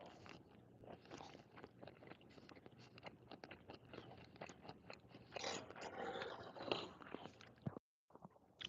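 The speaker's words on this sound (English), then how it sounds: "I'm sorry if I'm chewing loud." Someone chews food loudly and close, with a dense run of crunching and smacking bites for several seconds before a brief silence.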